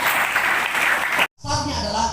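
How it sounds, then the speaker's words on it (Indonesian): A group claps together at a gathering for an introduction session. Dense, steady applause fills the space, cuts off for a moment, then resumes at a similar level. "mari kita beri tepuk tangan untuk kita sama-sama"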